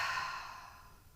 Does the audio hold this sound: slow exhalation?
yes